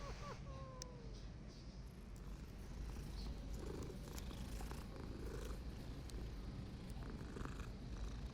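A cat purrs steadily and softly up close, a continuous low rumble that runs throughout with some faint game sounds in the background.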